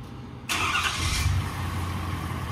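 A Ford F250 Super Duty diesel pickup cranks and fires, then settles into a loud, steady rumbling idle close by, with no talking.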